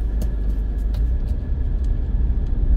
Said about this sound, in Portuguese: Ali onde estão passando os carros, ali é a saída da ponte.